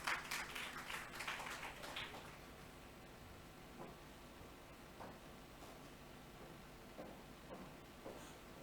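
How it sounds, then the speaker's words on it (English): Brief burst of audience clapping at a conference session opens loud, then fades within about two seconds into quiet room tone with a few faint scattered claps and shuffling. "Ladies and gentlemen, please give him a round of applause."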